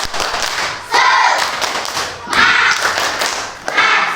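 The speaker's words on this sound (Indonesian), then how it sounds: "Kita tepuk semangat lagi." A school class performs the tepuk semangat clapping routine, with sharp, loud bursts of rhythmic hand claps in grouped patterns separated by short pauses.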